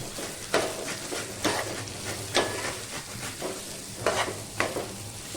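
Onion frying in a pan until browned, a steady sizzle of oil broken by periodic scraping stirs from a utensil, close and moderately loud.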